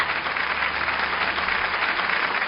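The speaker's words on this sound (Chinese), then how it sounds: "掌声送给他们" An audience applauds steadily for Suzhou pingtan storytelling masters at a twentieth-anniversary award ceremony, a dense, even clapping that fills the whole stretch without letting up.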